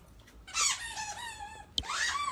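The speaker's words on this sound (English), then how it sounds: "I'm so happy she found a toy that she loves. But did it have to squeak?" A dog's squeaky toy, its squeaker damaged, lets out a long wavering squeal, then a sharp click and a second rising squeak, close and fairly quiet with no voices.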